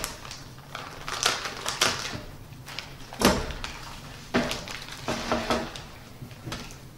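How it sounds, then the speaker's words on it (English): Cutting open a sous vide bag holding a steak: a series of close crinkly plastic rustles and sharp snips or tearing bursts, irregular and separated by short pauses, with no talking. "we're just going to go ahead and cut this bag open"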